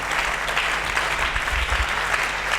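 A church congregation at a French-language sermon breaks into steady, dense applause, a continuous wash of many hands clapping close and loud throughout.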